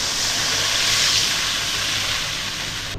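Water poured into a hot pan of cooking spices and eggplant sets off a loud, broad steaming hiss that holds steadily, then eases slightly before cutting off.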